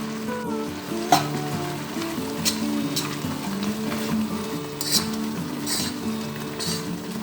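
Capsicum and frozen cabbage fry in a pan with chicken as they are stirred, giving a steady close sizzle with occasional scrapes and knocks of the spatula against the pan.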